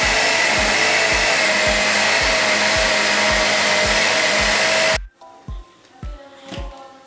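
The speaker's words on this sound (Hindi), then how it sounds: "अभी जो मेरे पास दही है तो वो दही इसमें डाल के तो उसको भी ग्राइंड कर लेते हैं" A kitchen mixer grinder whirs steadily as it blends yogurt for kadhi, a loud, dense close motor roar for about five seconds before cutting off abruptly, leaving faint clinks and handling noise.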